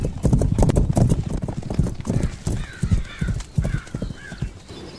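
Rapid rhythmic hoofbeats of a horse moving fast over ground, close and prominent, with faint bird calls in the background.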